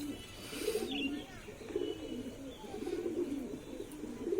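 Pigeons coo softly in repeated low, throaty phrases at a home loft, fairly faint and close, with a few light chirps and rustles in the background.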